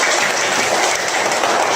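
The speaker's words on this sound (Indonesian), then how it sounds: "Tepuk tangan dulu untuk Alvaro" Brief, dense burst of classroom applause for a student, steady hissing claps from many hands with no pauses.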